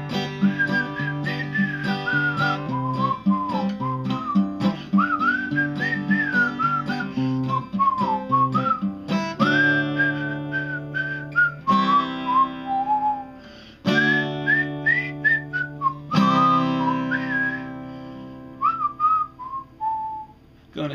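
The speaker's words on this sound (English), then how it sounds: "Now here's the warbly pitch whistle solo." A warbly, pitch-bending whistled melody carries a solo over a steady musical backing, sliding and trilling between notes with only brief pauses for about twenty seconds.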